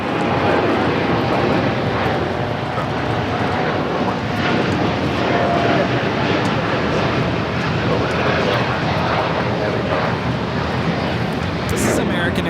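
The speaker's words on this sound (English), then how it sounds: "This is American Airlines Flight 27 taking off to Tokyo Haneda on the 787-8 Dreamliner." An American Airlines Boeing 787-8 Dreamliner takes off from Los Angeles LAX, its engines roaring loud and steady throughout with a broad rumbling wash and wind buffeting the microphone.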